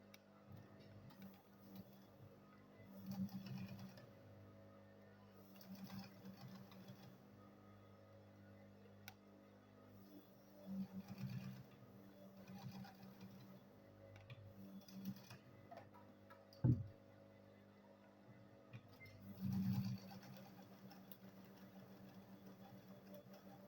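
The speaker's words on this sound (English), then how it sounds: "So I'll go ahead and sew it here again." Sewing machine stitching a small fabric mini purse, a quiet, close mechanical ticking that comes in several short runs separated by pauses.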